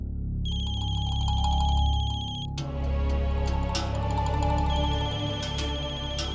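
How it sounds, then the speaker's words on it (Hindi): A mobile phone ringtone rings loud and close, its bright repeating melody carrying on steadily for several seconds, then giving way to clattering and rustling as someone searches for the handset. "मम्मा फोन की आवाज तो यही कहीं से आ रही है।"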